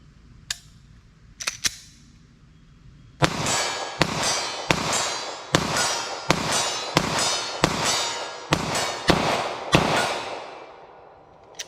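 A 9mm pistol firing Hornady Critical Defense Lite low-recoil rounds at a target, a quick string of about ten loud, sharp cracks at steady intervals after a couple of fainter clicks, close by and without talking.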